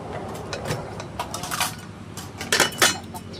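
Plates and dishes clatter and clink in several quick bursts, close and fairly loud over a steady background hum.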